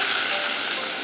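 Lard with a little water sizzling hard in a pan, a steady dense hiss and crackle of frying that stays close and loud throughout, with no talk over it.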